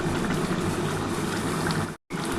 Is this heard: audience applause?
no